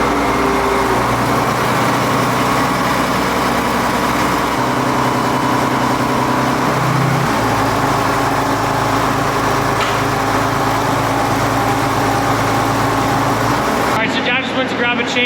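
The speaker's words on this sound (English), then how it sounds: "Now we're gonna back the tractor up to it and try and lift it out." A tractor engine runs steadily while backing up toward a pump pit, a loud continuous drone that holds its pitch before cutting off sharply near the end.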